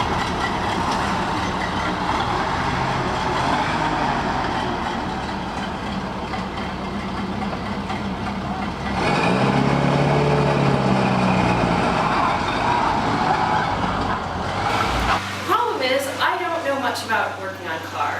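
A Ford Model A car called Daisy, parked on grass, runs with a low, chugging engine rumble for most of the stretch, settling into an idle before a person starts talking near the end.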